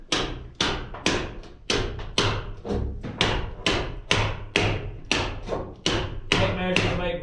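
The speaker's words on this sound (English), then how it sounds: "Tape measures make great hammers." A tape measure is used as a hammer on a construction job, striking about a dozen sharp, evenly paced blows close up that ring with a bright metallic snap.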